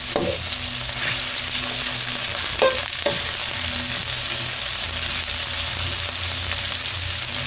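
Tomatoes sautéing in a pan for a sponge gourd (patola) dish give off a steady, close sizzle and fry hiss throughout, with a couple of brief utensil scrapes and knocks partway through and no talking.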